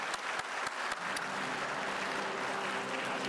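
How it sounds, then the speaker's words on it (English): Steady applause from a large conference audience, dense and continuous, with a few sharper claps standing out at the start. "Another big round of applause."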